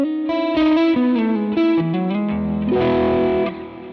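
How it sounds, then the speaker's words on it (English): An electric guitar through a Vox AC30 amp tone on a Line 6 Helix plays a short melodic phrase of sustained notes, with lush Glitz reverb and chorus-like shimmer trailing behind, alone without talk. "and then we got the Glitz reverb"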